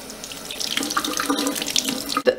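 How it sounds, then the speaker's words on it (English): Steady running tap water splashes over a fossil fragment being rinsed clean, a loud close wash that fills the moment and ends with a brief knock near the end, with no talk. "So I'm just going to give it a rinse and see if it cleans up any more."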